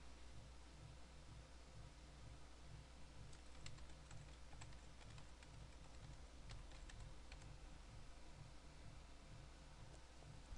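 Keys clack steadily on a computer keyboard as a new password is typed twice, quick irregular taps over a constant low hum, with no voices.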